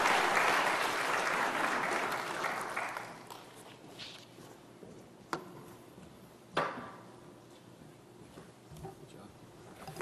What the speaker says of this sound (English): Dr. Goldman deserves a round of applause